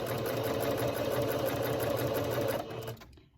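A sewing machine stitching a cloth face mask runs in a steady, close, whirring mechanical rhythm for nearly three seconds, then slows and stops.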